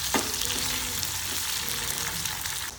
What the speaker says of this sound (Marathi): भाजलेला कांदा आहे ते परतून घ्यायचा तेलामध्ये. त्याला चांगलं परतून घ्यायचं.